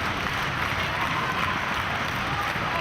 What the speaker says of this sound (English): This crowd again calling for that tag.